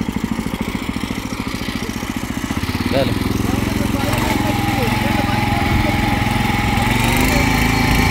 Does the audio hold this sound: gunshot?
no